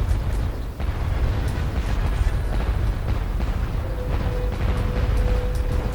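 Cannon fire at dock turrets in the pirate video game Pirates: The Legend of Black Kat, heard as a dense, loud rumbling boom with blasts layered over continuous game noise and no talk.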